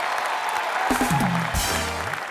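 Studio audience on a comedy show clapping to welcome a guest, a continuous crowd applause with musical tones and a jingle rising partway through.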